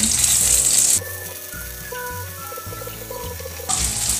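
Mini burger patties fry in a pan with a loud, close sizzle that drops to a softer crackle briefly, then flares up loudly again, while a faint tonal background runs beneath.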